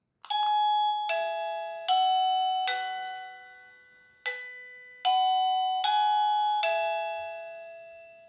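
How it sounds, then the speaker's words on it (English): A doorbell at a house's front door rings a sequence of clear, loud chime tones, each note sustaining and fading before the next, with no voices. "we walk over to the door and ring the doorbell."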